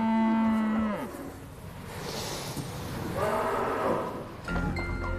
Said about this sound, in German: hat die Kühe Lena und Sabine gekauft, die letzten 2 Milchkühe von einst 35.